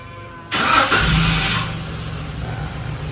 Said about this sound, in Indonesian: dan mesin bisa hidup.